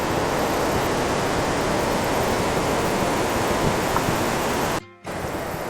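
Water rushing at Hogenakkal waterfall close beside a boat, a dense, loud, steady roar with a brief dropout near the end before the roar comes back.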